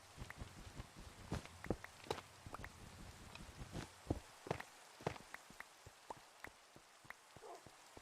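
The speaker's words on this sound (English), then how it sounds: "Finally, no more rain." Light rain in a video game patters steadily, with scattered soft drops and taps hitting surfaces at a quiet, close level and no voices over it.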